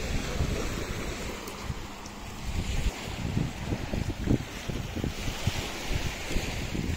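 Sea waves washing onto a shore in Spain, with steady surf and wind noise buffeting the microphone over seven seconds, surges swelling and receding irregularly with no voices.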